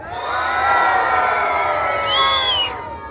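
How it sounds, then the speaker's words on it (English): Scouts, guides and parents cheering together at a St George's Day parade in the UK, a loud sustained crowd roar with high children's shouts and whoops rising near the end before fading. "So have a cheer for St George."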